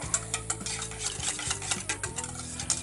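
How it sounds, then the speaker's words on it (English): Red wine marinade for venison whisked in a bowl, a quick rhythmic clinking and scraping of the whisk against the sides, close and steady with no voices. "whisk all that together"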